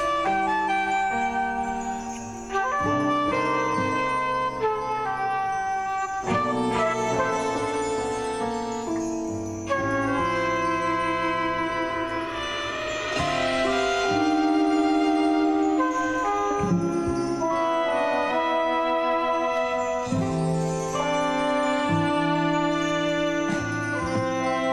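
A vintage-style music sample opens on piano and plays continuously as layered tonal instrumental music with shifting chords and a brief drop near the start, with no voices.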